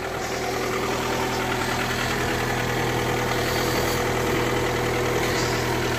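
A car engine idles steadily and close by on its first run in about four years, a constant low rumble with a faint mechanical knock running throughout, no voices.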